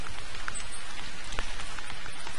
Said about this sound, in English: It's starting to rain now as well